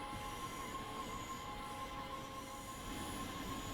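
A modern train on the Mittenwaldbahn in Train Sim World 6 runs steadily on its rails with a continuous rumble and a thin, persistent wheel squeal, even and enclosed throughout.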